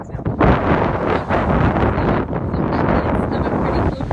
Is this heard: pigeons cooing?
no